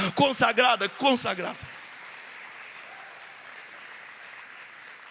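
Congregation applauding inside a church, a steady wash of clapping that follows someone speaking briefly and carries on moderately loud to the end.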